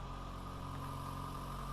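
Honda Del Sol car engine idling steadily, a low, even hum that stays faint and continuous with no voices over it.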